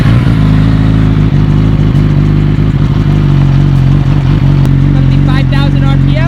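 A Yamaha R6 sportbike engine runs close and loud at a steady high-pitched idle-to-rev drone, a voice talking over it near the end.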